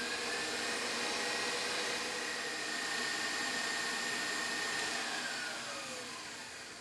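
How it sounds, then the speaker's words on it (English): An electric mixer whips egg yolks and sugar in a kitchen, giving a steady, even motor whir that holds for several seconds and then tapers off slightly near the end. "I'm going to be whipping up my egg yolks and my sugar."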